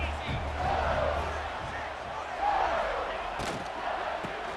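A football stadium crowd yells and roars in swelling waves behind a play-by-play announcer talking over the noise, the roar rising and falling across the moment.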